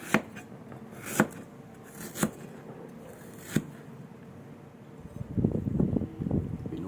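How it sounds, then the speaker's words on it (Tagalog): A knife chops ginger on a board with four sharp, separate strikes spaced a second or so apart, close and clear. A burst of rustling and shuffling follows near the end. "Hiwain ang luya para hindi masyadong kinakaskas yung lupa."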